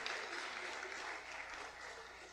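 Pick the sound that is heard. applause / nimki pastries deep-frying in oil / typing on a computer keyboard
applause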